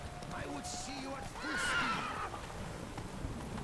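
Roach, a horse in the video game Witcher 3, gives a loud whinny over a steady clip-clop of hooves, while someone talks over the game sounds.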